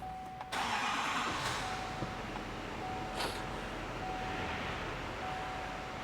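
A turbo diesel vehicle accelerating with little engine noise, a soft steady whoosh of road and wind rather than a clattering diesel sound, with a faint tonal whine running throughout.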